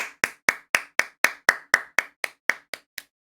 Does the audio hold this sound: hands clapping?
yes